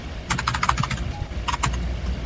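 Rapid clicking keystrokes on a computer keyboard during a video game session, two quick bursts of typing close to the microphone over a low background hum.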